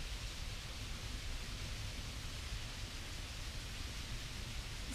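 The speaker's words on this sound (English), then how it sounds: "But that's the waterfall on someone's private land." Tillingbourne waterfall in the Surrey Hills, a steady broadband rush of falling water that holds constant and dense throughout, heard close and without voices.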